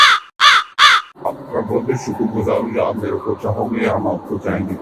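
Three loud, harsh crow caws in quick succession, then a busy musical or vocal backdrop fills the rest.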